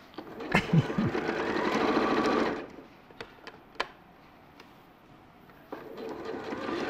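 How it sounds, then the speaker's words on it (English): A sewing machine stitches a shoulder seam in one steady, close, whirring run of about two and a half seconds, then stops, leaving quiet room tone with a few faint clicks. "are you just stitching it on the stitch line of the shoulder seam?"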